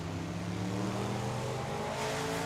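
Drag racing cars at a dragway give a steady, loud engine roar that fills the whole stretch without letup, with no one talking.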